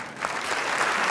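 Audience applause at the 2015 BAFTA Games Fellowship award ceremony: a dense, steady burst of many hands clapping together, filling the hall evenly for a brief moment.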